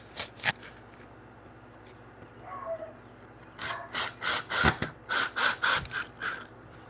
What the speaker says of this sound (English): I'm going to hand tighten that one just a little bit in there.